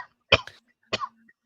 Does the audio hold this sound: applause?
no